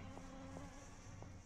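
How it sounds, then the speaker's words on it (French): Flies buzz in the Dead Island video game, a faint, steady droning hum with a few brief rising whines as insects pass close, and no talk. "On entend bien les mouches qui volent."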